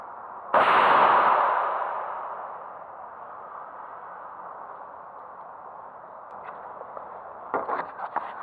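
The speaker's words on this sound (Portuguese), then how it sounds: "eu vou dar um tiro com uma expansora" A single airgun shot with an expanding pellet fired at a car windshield: one sharp loud crack followed by a long ringing decay, then faint clicks and handling noises near the end.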